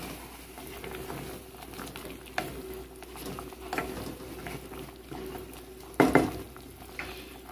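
Chicken stewing in a pot being stirred with its seasoning, a low simmering sizzle with soft spoon scrapes and a sharper clatter against the pot toward the end, close and without talk.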